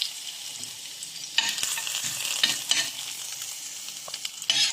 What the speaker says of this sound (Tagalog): At dahil mainit na po yung ating kaserola, ilalagay na natin yung luya.